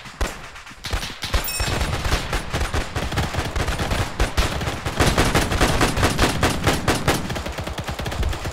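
Sustained bursts of machine-gun and rifle fire in an Arma 3 World War II battle, loud and near with dense rapid volleys and scattered single shots, continuing almost without pause.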